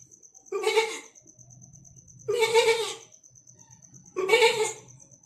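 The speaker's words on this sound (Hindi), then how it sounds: "तभी बकरी की आवाज़ सुनाई दे दी।" A goat bleats three times in a morning farmyard, each wavering cry about a second long and evenly spaced, over a steady high electronic tone and faint low rumble.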